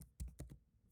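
Close, loud keystrokes on a computer keyboard as code is typed, a few sharp clicks in quick succession, with no talking.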